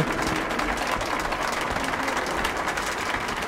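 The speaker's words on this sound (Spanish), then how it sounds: "Un gran aplauso, por favor." A crowd in a theatre applauds in a steady, dense wash of clapping that continues without a break, from the video game Metro: Last Light Redux.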